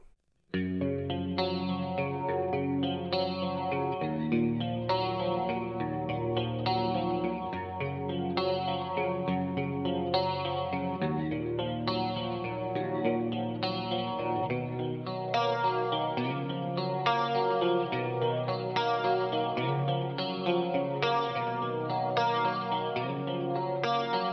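Electric guitar played through a Cornford MK50H II amp on its clean channel with heavy effects, chords ringing with chorus, reverb and echo, strummed in a steady rhythm, no voices.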